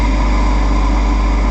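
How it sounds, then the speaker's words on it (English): Electric air blower running steadily in a forced convection heat transfer lab apparatus, a loud continuous motor whir with a low hum, alone and unchanging throughout. "So for that reading, first of all we on the blower switch."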